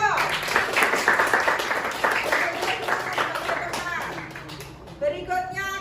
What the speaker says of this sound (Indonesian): kita kasih aplaus untuk kelompok hijau